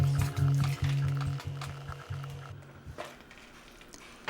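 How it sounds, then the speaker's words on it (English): Ajvar, a roasted red pepper and eggplant spread, stirred in a pot on the stove, with repeated close scraping strokes in a steady rhythm that fade to quieter stirring toward the end. "Constant stirring of Ajvar is very important."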